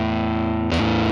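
Electric guitar through an Electro Harmonix Holy Stain pedal on its stock setting, a held distorted, effect-laden chord that shifts to a new chord partway through, loud and alone.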